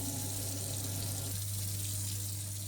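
Water running from a kitchen sink tap in a steady, close gushing stream, with the flow shifting slightly partway through; no talking.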